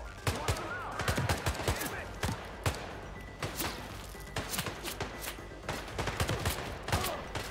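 Gunfire in Hitman crackles in sharp, loud shots fired in quick irregular succession throughout, with someone talking over the shooting.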